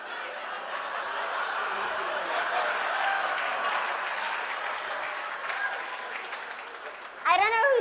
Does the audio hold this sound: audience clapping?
yes